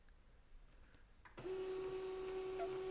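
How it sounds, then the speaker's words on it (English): An HP LaserJet M209dwe laser printer starts up partway through and begins printing a document, giving a steady mechanical whir with a sustained tonal hum after a quiet start. "And the printer will print the document."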